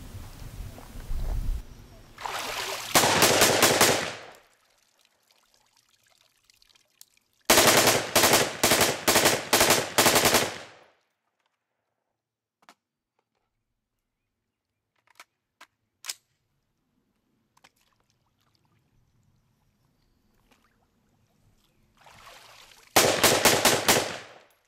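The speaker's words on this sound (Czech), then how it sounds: "Nejextrémnější je samotný výstřel pod hladinou, který jsme si také vyzkoušeli." Loud bursts of rapid-fire gunshots from an FAV-AR rifle fired underwater, in three separate volleys, with near silence and a few faint clicks between them.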